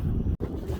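Strong wind on Thomas Pond beside a boat, buffeting the microphone in a steady low roar that cuts out for an instant midway.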